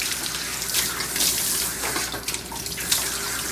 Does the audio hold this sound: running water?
yes